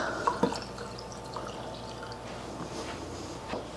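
Milk trickles from close by into espresso while flavored coffees are made, a faint, soft pouring with a couple of small drips near the start and a low steady liquid sound after.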